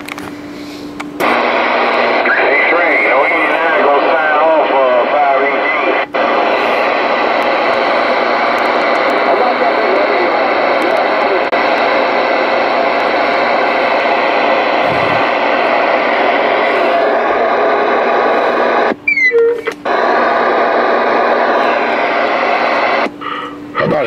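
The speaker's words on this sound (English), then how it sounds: "How about a channel 19 because I got a radio check back." Radio check reply coming over a Stryker SR-955HPC CB radio on channel 19, a loud, noisy, distorted transmission with a voice talking through heavy static, steady for most of the span.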